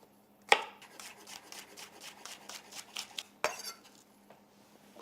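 A knife chopping garlic and spring onions on a board: a sharp first chop, a quick run of even, rhythmic cuts, then another firm chop and a few lighter taps, close and clear in a quiet kitchen.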